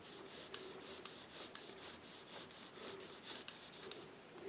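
A cloth drawn back and forth between the pads of a bicycle disc brake makes a quiet, rhythmic rubbing swish, repeating roughly twice a second with soft scratchy strokes.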